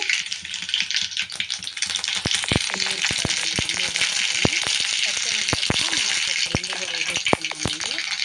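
Mustard seeds crackle in hot oil, fried for lady finger fry, as a steady fizzing sizzle with sharp pops and spatters scattered through it, all heard up close.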